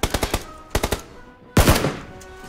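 Video game machine gun fire in a firefight, coming in two quick bursts of about four sharp shots each, then a louder, denser close-range volley near the end.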